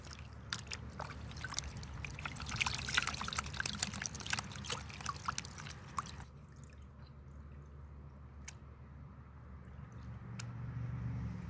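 Water sloshes and trickles in a gold pan at a panning station in Wisconsin, with steady pouring and dripping for the first six seconds, then quieter scattered drips and a low background hum.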